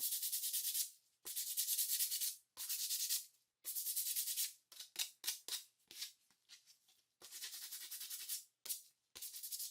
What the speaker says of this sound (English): I went ahead and hand sanded the legs on this piece.